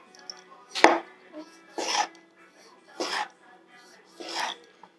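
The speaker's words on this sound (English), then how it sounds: "So I'm just gonna slice them different colors so they look beautiful" Multicolor cherry tomatoes sliced with a knife, four distinct cutting strokes about a second apart, close and fairly clear against a quiet background.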